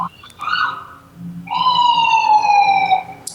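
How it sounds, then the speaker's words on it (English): A police siren wails loudly and close by, rising and holding in long sweeping tones, with a brief chirp at the start. "Can you hear the sirens?"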